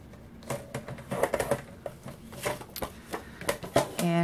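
A paper cutter scores a cardstock strip for a candy box belly band, with a series of sharp, irregular clicks and scraping strokes close by, ending in a short tonal squeak.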